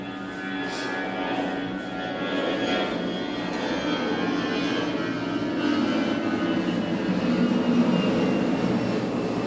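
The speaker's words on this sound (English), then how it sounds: "You guys are gonna hear a lot of planes too. I do live by the airport" Aircraft engine roar from planes flying over near an airport, a loud continuous broadband rumble and whine that holds steady throughout, with no talking.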